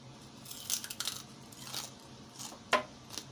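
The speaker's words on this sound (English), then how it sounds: "Y'all hear that crunch?" Biting into crispy homemade fried pork rind, chicharron, a few soft dry crunches close to the mouth, spread over a few seconds, quiet against a low room hum.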